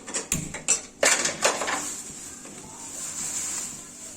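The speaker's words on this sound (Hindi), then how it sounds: "ये मेरा प्याज मैं चला रही हूँ बार बार" Chopped onions are stirred in a metal cooking pot, several sharp clanks of a utensil against the pot in quick succession, then a softer steady sizzle.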